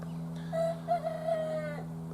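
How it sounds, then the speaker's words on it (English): A rooster crows once, a single drawn-out call of about a second heard at moderate distance over a steady low hum. "The rooster just learned how to do that"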